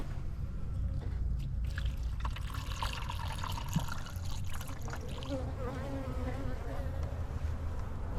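Honey bees buzzing around an open hive, a dense continuous hum of many insects close by with individual bees droning past, steady and moderately loud with no talking.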